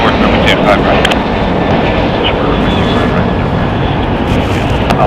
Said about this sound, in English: Alaska Airlines Flight 6 going to Washington, D.C. It's a Boeing 737-800, 15 years old.